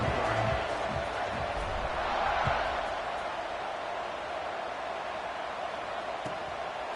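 Stadium crowd at a football game ahead of the kickoff after an extra point, a steady broad roar that swells briefly and then settles into a constant wash of distant cheering.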